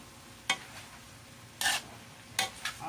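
Pancit canton noodles with vegetables are stirred in a pan over a faint sizzle, three distinct scraping strokes of the utensil against the pan spaced about a second apart, close and fairly quiet.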